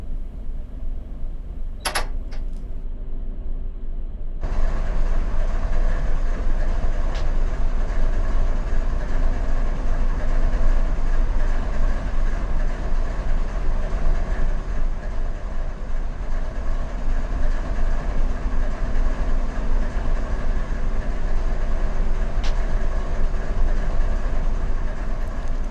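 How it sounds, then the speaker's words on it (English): Freight train locomotives in the Run 8 train simulator, on the Hesperia local, rumble with a steady engine drone that swells after a few seconds into continuous heavy rolling and rail noise, with a faint high squeal early on. "Our locomotives won't clear when we push back to do our work."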